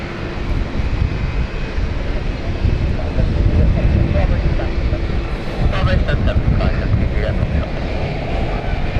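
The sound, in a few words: British Airways plane from Florence arriving at London City Airport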